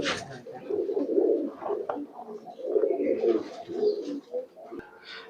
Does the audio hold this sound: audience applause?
no